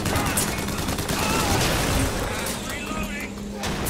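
Gunfire rattles through a BioShock Infinite firefight in dense, continuous bursts of shots and blasts. The volleys are layered with game noise across all four seconds, and a voice may be mixed in.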